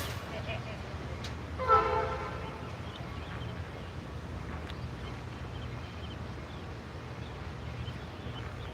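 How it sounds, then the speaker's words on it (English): A train at the Tennessee Valley Railroad creeps into position on the Chickamauga turn, giving a steady low rumble with a brief horn-like tone early on, heard from trackside at moderate distance. "The Chickamauga turn train is getting positioned so that they can be out of the way when 630 reverses."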